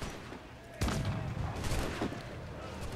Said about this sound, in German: Ja, ich würde die Drehbasse gerne abfeuern.